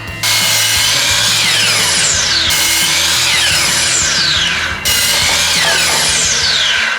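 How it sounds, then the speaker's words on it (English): A miter saw cuts through a mahogany plank with a loud, continuous whining bite into the wood, two long passes separated by a brief dip as the blade spins back up; no talking. "we're going to use this miter saw"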